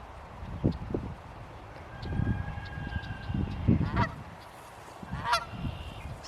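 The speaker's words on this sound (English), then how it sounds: "We have a resident Canada goose here." A Canada goose honks repeatedly outdoors at a farm, loud and fairly close, with several separate calls spread through the stretch and low rustling between them.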